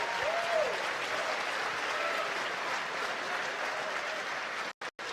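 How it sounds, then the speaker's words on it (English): Sustained audience applause fills an esports awards ceremony, a dense steady clatter of clapping from a large crowd that holds at an even level before cutting out briefly near the end. "Let's give them all a round of applause."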